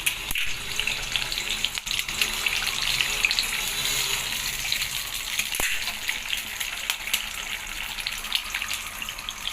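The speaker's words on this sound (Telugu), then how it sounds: "ముందుగా ఎగ్ని ఇట్లా ఫ్రై చేసుకోవాలండి." An egg sizzles in hot oil in a pan, a steady crackling hiss with scattered pops and a couple of sharp clinks, close and moderately loud with no talk.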